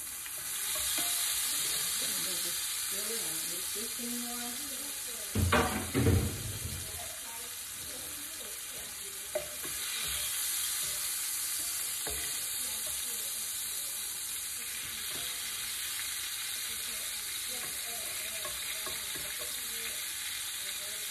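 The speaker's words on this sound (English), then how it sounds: "that's all of the shrimp. Let those cook." Shrimp sizzling loudly in a pan for Cajun jambalaya pasta, a steady close frying hiss running throughout, broken by a few knocks and scrapes of a utensil in the early seconds.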